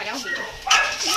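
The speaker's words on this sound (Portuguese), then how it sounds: "Ô, cachorro!" A dog gives a short bark and whimpering yips, close and fairly loud, with people talking over it.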